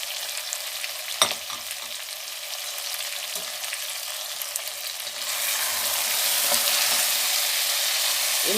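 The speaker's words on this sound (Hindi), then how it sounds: "इनको आपने अच्छी तरह भूनना है।" Mutton with garam masala fries in a pan for a bottle gourd curry, a steady close sizzle that swells louder and denser partway through, with occasional stirring scrapes and no talk.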